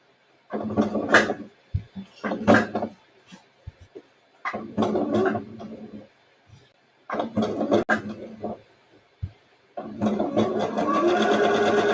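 Sewing machine stitching back and forth on a shirred top, running in several short loud bursts with brief pauses between, ending in a longer steady run, close up with no talking.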